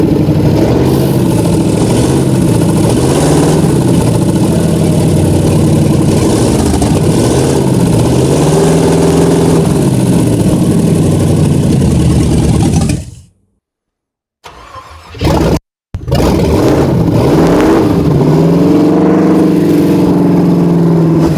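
A Ford Galaxie 500 V8 runs loud and close with a rough, steady idle and small rises in revs, cuts out abruptly into silence, briefly catches again, then restarts and settles back into a running idle.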